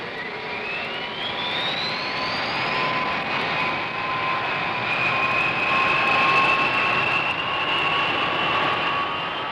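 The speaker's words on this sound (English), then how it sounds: "Everything ready, the B-52s taxi out and are soon on their way." B-52 bombers taxi out with loud, steady jet engine roar and rising high-pitched turbine whines, a continuous close drone that holds throughout.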